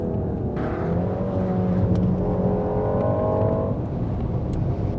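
A Peugeot 308 GTI on a race circuit, its engine droning loudly and climbing in pitch as it accelerates, then easing off, heard up close with no talk.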